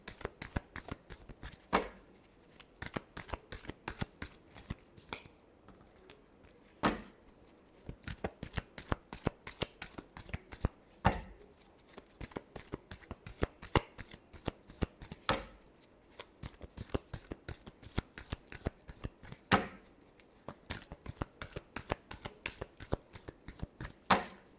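A deck of tarot cards is shuffled over and over, giving quick papery riffles and soft slaps in irregular bursts. It is fairly quiet and close, with no voices.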